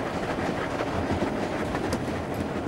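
The steam locomotive Duchess of Hamilton roars through a tunnel, giving a dense, loud, continuous rumble with a steady rolling clatter of carriage wheels and no voices.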